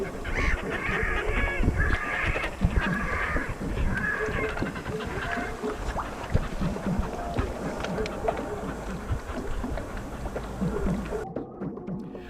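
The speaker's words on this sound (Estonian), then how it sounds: "Halle Viirge järvel moodustavad haned, kes siin oma rändeteel peatuvad." A flock of migrating geese resting on a lake in Estonia, honking and cackling continuously at close to middle distance, many overlapping calls with a busy, bustling background.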